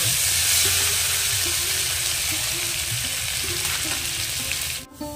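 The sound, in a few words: frying green banana in a pan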